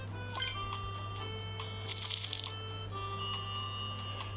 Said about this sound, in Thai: สังเกตที่กระดิ่งนะ มันจะดังติ้งติ้งเห็นไหมเอ่ย